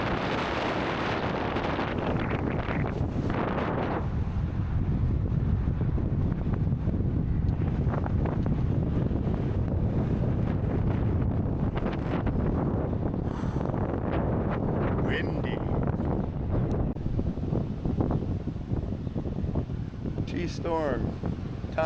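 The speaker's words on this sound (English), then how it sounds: "It's a little windy." Strong, continuous wind buffets the microphone during a stormy stop on a 48-state e-bike trip, a loud low rumble filling the whole stretch with faint voice fragments buried underneath.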